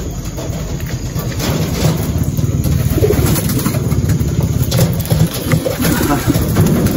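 Pigeons coo in low, rolling murmurs that run continuously and close, mixed with a dense background hum and some talking nearby.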